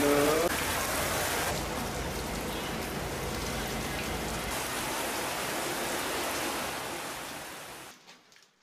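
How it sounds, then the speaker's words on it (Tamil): Heavy rain mixed with hail pours down in a dense, continuous hiss and patter, loud and close, holding steady for several seconds before cutting off abruptly. "கனமழையுடன் கூடிய ஆலங்கட்டி மழை பெய்தது"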